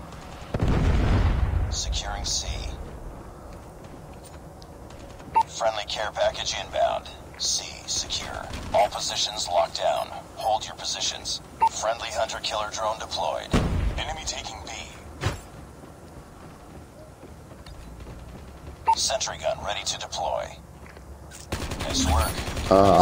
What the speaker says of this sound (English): Predator missile on standby. Alright, let's launch these bad boys.